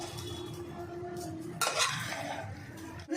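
Carrot halwa stirred in a pan over a low flame, with a steady soft scraping churn and one brief, louder swish partway through, close up and without voices.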